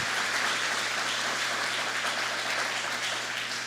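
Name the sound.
church congregation applauding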